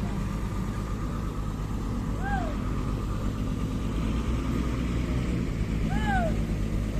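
A tour vehicle carrying a school study group from Riau idles steadily as it is parked, a constant low engine rumble filling the whole stretch, with a couple of brief high chirping whistles rising above it.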